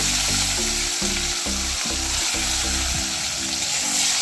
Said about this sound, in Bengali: আমি এবার এর মধ্যে টমেটো কুচি দিয়ে দেবো।